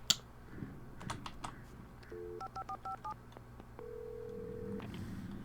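Telephone keypad tones beep in a quick series of short dialing pulses at a gas station in the video game Alan Wake, followed by a steady ringing tone, quiet and close with faint background noise.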